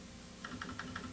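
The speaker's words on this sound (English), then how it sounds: "The transport motor moves the carrier for tab," IBM Wheelwriter 5 typewriter carrier driven by its transport motor, a quick series of about five evenly spaced mechanical clicks starting partway in, fairly faint and alone.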